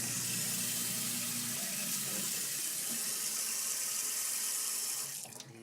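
Tap water runs steadily into a kitchen sink: a loud, continuous broadband rush that holds for about five seconds and then cuts off near the end.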